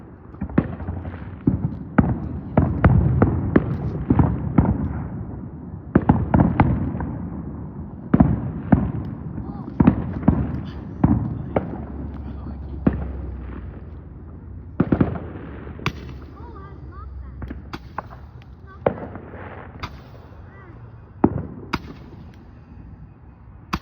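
Fireworks burst in a rapid volley of loud, close bangs and sharp crackles, then thin into scattered pops and faint fizzing over about twenty seconds.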